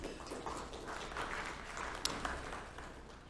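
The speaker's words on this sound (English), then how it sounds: "Let's give all of them a round of applause." Steady applause from a crowd, a dense wash of clapping that holds for several seconds at moderate distance.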